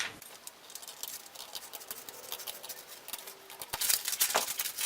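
Scissors cut a paper triangle out for origami, a quiet run of soft snips and rustling paper, close, with a busier patch of cuts near the end.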